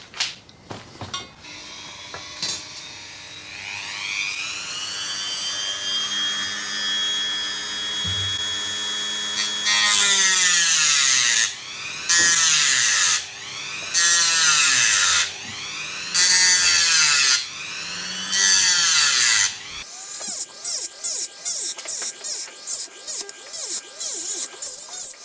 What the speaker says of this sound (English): We'll hook up the Dremel.